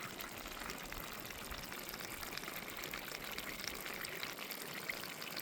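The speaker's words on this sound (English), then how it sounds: "you could see the bubbling coming up." Steady, faint bubbling and fizzing of natural gas rising through water between beach rocks, a continuous soft gurgle with no voices.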